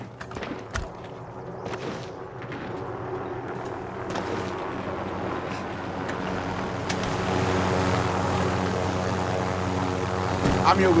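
Propeller aircraft engine droning steadily in the Call of Duty Warzone video game, a continuous hum that grows slightly louder toward the end, with voices talking over it.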